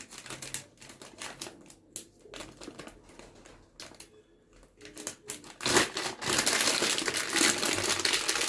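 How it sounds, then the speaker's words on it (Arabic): A plastic bag crinkles and rustles as chopped molokhia leaves are packed into it, with sharp scattered crackles that turn into louder, continuous crumpling near the end. "انا هحط الملوخيه كده في الكيس"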